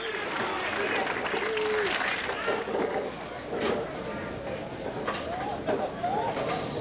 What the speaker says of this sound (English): the crowd starts shouting, Pete, Pete